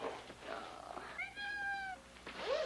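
A house cat gives a clear, drawn-out meow near the middle, then a shorter rising mew at the end, heard close against a quiet indoor room with no one speaking.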